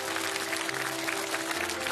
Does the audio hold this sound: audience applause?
yes